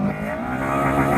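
A Honda car accelerates hard at a car meet, its engine note climbing through VTEC as it pulls away, a loud, continuous rising roar with tire noise and nearby traffic mixed in.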